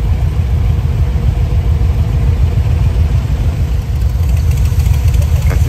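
Harley-Davidson motorcycles cruising through the streets of Hanoi's Old Quarter around Hoan Kiem Lake. A loud, continuous low engine rumble runs throughout, with slight throttle fluctuations near the end.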